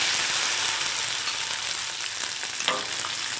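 Green pigeon peas hit a hot pan in a steady, close sizzle of frying, with a brief scrape of stirring near the end and no voices.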